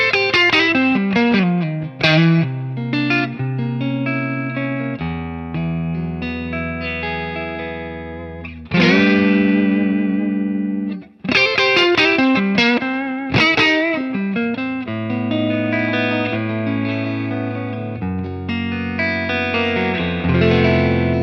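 Electric guitar through the Super Bass patch of a Hotone Ampero Stage II pedalboard, a mostly clean tone with slight breakup and spring reverb. Loud strummed chords and picked notes ring out in phrases with short pauses, and nobody talks.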